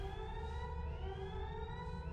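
A ship's alarm siren sounds in a space video game, a steady electronic wail with layered rising tones holding at constant loudness throughout, with no voices over it.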